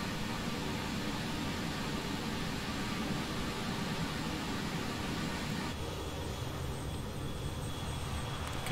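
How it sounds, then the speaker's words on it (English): Steady, loud jet engine roar from a BAe 146 airliner in flight in Microsoft Flight Simulator 2020, a constant broadband rush with no talk over it. "Still a very quiet jet, the 146."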